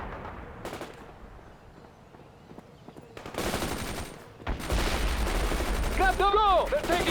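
Battlefield gunfire in the World in Conflict strategy game, machine-gun bursts crackling sporadically before growing into a loud sustained barrage, with shouted voices over the top near the end.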